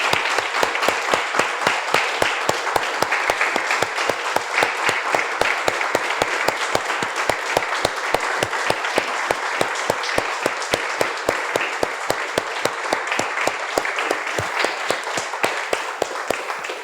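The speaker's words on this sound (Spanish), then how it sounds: "Damos un aplauso, hermanos, al Señor." A church congregation claps in praise to the Lord, a long run of loud rhythmic unison claps at a steady brisk beat over a bed of scattered clapping, continuing evenly for the whole stretch with faint voices underneath.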